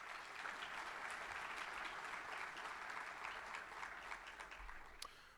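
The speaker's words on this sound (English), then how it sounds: "If we could please give them a round of applause." A breakfast crowd at an AI panel event gives the panel members a round of applause, steady dense clapping throughout that softens slightly toward the end, heard from within the room.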